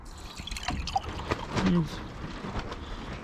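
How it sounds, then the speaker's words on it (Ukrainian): Plain tap water is poured over cucumber seeds set out in cups, a soft trickling splash heard close by, with a person speaking over it. "заливаю їх водою"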